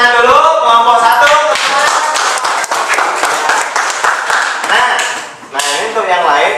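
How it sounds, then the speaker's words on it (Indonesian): A classroom of students clapping for group 1, loud dense applause close by that dips briefly before picking up again at the end. "Buat dari kelompok 1 kita kasih tepuk tangan dulu"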